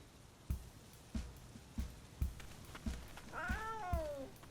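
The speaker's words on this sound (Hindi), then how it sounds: "ये एक जंगली बिल्ली है" A wild cat gives a single drawn-out meow near the end, preceded by a series of soft, evenly spaced thumps, all faint and fairly close.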